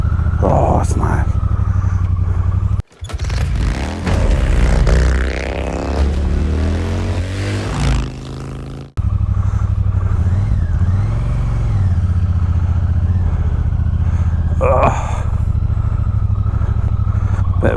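Triumph Bonneville T120 motorcycle being ridden, a loud steady engine drone with rising revs and wind buffeting, close to the rider, with a short break and some talking over it.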